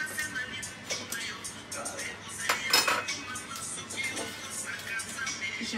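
Metal cutlery scrapes and clinks against a plate while fish is cut up for serving, a string of close, irregular taps and chinks with a faint low background hum.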